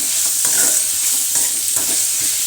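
Sliced onions with salt sautéing in a pan, a steady loud sizzle with intermittent scraping stirs, close and continuous without talk.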